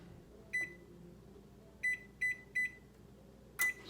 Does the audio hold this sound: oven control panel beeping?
yes